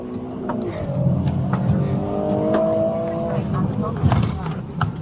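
Car engine revving and tires working hard during a police getaway with an officer aboard, a steady motor drone under urgent shouting voices throughout, with some sharp bursts near the end.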